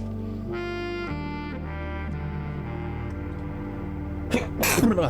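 A single sneeze bursts out near the end during a Blue Prince gameplay stream, following a stretch of steady game music and background tones.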